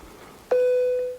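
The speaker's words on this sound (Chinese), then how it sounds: "哎呦，不好意思，我的手机响了啊" A mobile phone gives a single short electronic beep, clear and close, standing alone in a quiet room.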